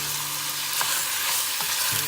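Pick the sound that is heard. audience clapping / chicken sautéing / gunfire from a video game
chicken sautéing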